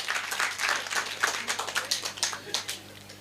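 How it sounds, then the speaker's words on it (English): Panelists at a world tourism and sustainable management event at Kisumu Museum receive a round of audience applause: dense, steady clapping from a crowd that tapers off slightly toward the end, with no talking over it. "Let's give them a round of applause"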